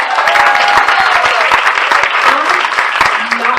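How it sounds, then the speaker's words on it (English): An audience at a talk session on a low-carb cruise applauds for the speakers, loud close clapping with a few cheers and voices mixed in. "Let's go ahead and give it up for the speakers."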